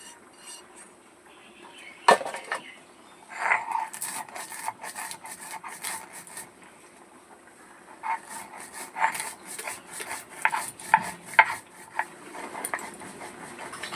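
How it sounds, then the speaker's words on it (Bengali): Spices being ground by hand on a grinding stone while cooking a vegetarian soybean curry: irregular scraping, rubbing strokes with occasional sharper knocks, close and moderately quiet, with no talking. "এদিকে আমি মশলাটা একটু বেটে নেবো"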